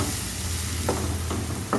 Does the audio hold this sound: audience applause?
no